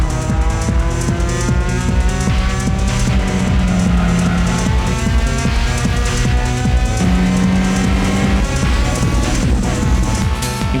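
A race car lapping the banked turns of the Laguna Seca circuit, engine droning loud and steady throughout with brief tire squeal as it corners, no talking.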